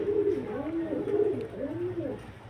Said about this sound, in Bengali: এটা হচ্ছে মাদি পায়রা আর এটা হচ্ছে নর পায়রা